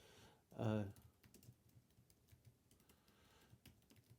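Soft, rapid clicks of typing on a computer keyboard carry on quietly throughout, with a short burst of voice near the start.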